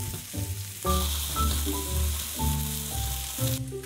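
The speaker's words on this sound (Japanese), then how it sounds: "中火で全体炒めます。" Onions, zucchini and sliced frozen shiitake stir-fry in a frying pan over medium heat, giving a steady close sizzle beneath a melodic music bed.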